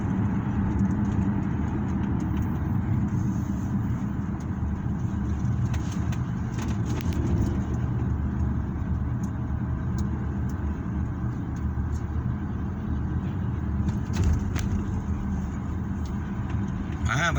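Steady road traffic at a stoplight in the early evening, a continuous low engine rumble and tire noise from passing cars, heard from inside a moving vehicle, with a voice speaking now and then over it.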